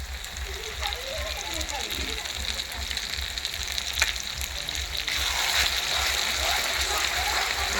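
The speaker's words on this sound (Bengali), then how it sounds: "আদাটা একটু ভেজে নিই" Ginger frying in oil in a home kitchen, a steady soft sizzle with occasional stirring scrapes, growing slightly louder toward the end, with a voice talking over it at times.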